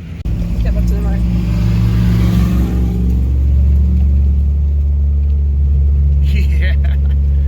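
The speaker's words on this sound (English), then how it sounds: "Instead of drifting Miatas and Corvettes, he's drifting a van." Ford Econoline van with a 7-inch lift kit drifting, its engine revving into a loud, sustained low drone close by, with people talking and exclaiming over it.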